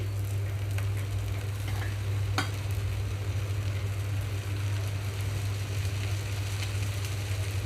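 Oil sizzling on a hot dosa pan over a high flame while ragi flour dosas cook, a loud continuous frying hiss with a low steady burner rumble underneath and a brief sharp scrape partway through.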